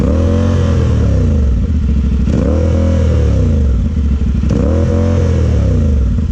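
A CFMoto 450SS motorcycle with a sticking throttle, its engine revving loudly and close in repeated rising and falling pulls over a rough, constant idle.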